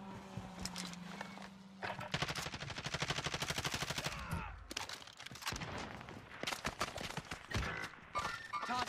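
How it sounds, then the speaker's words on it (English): Rapid bursts of automatic gunfire in the online shooter Call of Duty: Warzone, with dense repeated shots and sharp cracks over about nine seconds amid busy game sounds. "Top Nova shooting at you guys"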